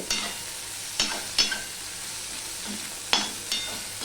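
Okra fries in hot oil in a pan, a soft steady sizzle broken by several sharp scraping stirs of a spatula, close up and with no talking.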